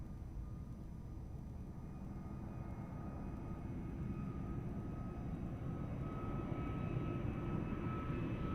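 An airplane landing on runway 02 at Lisbon Airport, a faint, distant, steady jet roar that slowly swells louder, with no voices.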